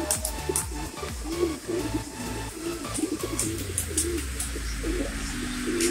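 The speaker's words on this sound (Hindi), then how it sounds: "ये यहाँ पे देखो इन्होंने अपना बाबा जी ने कबूतर रखे है, देखो कितने बढ़िया कबूतर हैं।" Pigeons of mixed colours kept in a coop coo softly and continuously nearby, their low rolling calls overlapping, with occasional chirps from other birds.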